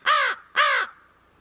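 Two loud, close crow caws in quick succession, each harsh and drawn out, with a short gap between them and quiet after.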